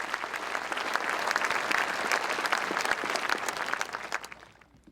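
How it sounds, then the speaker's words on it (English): Sustained applause fills a hall as a crowd claps for scholarship donors and student award winners at a high school graduation ceremony. It stays steady and full for several seconds, then tapers off at the end. "Let's have a round of applause for all the scholarship donors and the students who won these awards."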